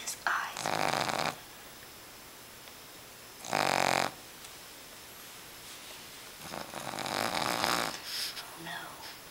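Sleeping dog snoring, three long, rough, rasping breaths with quiet pauses between, close and fairly loud, with faint soft murmuring in the background.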